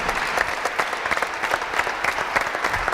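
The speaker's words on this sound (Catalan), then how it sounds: "un aplaudiment per ells" An audience at a live cooking event applauds for visitors from Pallars and Cerdanya, a steady dense patter of clapping hands throughout, moderately loud and without speech.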